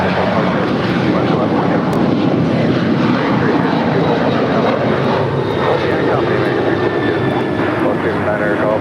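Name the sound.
Alaska Boeing 737-800 jet departing LAX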